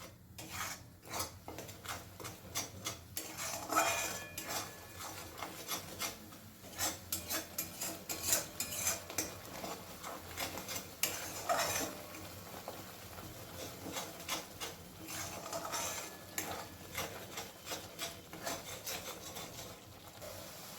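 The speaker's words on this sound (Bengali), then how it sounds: "এবারে খুব ভালো করে সমস্ত মশলা একসাথে কষিয়ে নেব গ্যাসের ফ্লেমটাকে মিডিয়ামে রেখে" Spices with Kashmiri chilli powder stir-fried over a medium gas flame, a utensil scraping and rubbing around the pan in uneven bursts, quiet and close, with no talking.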